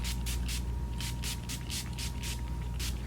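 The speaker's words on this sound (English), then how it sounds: "I let that absorb just really quickly, and then I spray again." A rapid series of short, soft spray bursts hisses close up in a quiet room, about a dozen quick pumps of a facial mist bottle.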